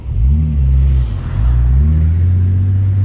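A Nissan Skyline R34 GTT on the move, its engine revving loudly and close with a deep, throaty rumble that swells, dips briefly, then holds steady.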